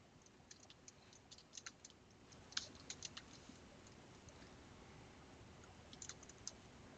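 Quiet keyboard typing clicks along in short irregular bursts of keystrokes, faint against a low steady background hiss, with no talking.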